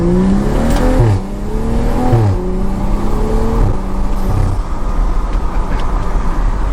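A BMW F30 335i engine revs up and down repeatedly, loud and close, with sharp crackling pops from the modified exhaust between the rises.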